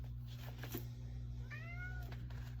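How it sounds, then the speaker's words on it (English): A house cat gives a single short, rising meow partway through, fairly quiet against a constant low electrical hum in an indoor room. "Meowing. Let me feed the cat."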